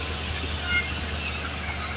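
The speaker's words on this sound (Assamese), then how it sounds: "আজি আপোনালোকে দেখোন ট্ৰেইন ষ্টেচন কিমান শব্দ হৈ আছে ইয়াত" Noise at a busy railway station in Guwahati forms a steady rumbling wash of rail traffic and ambient din, with a faint voice under it.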